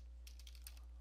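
Several quick keystrokes on a computer keyboard, faint and close, soft clicks tapped in a short burst over a low steady hum.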